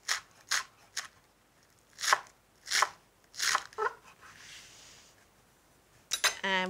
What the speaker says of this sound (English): Okay, some of our chives. We'll just finely slice them.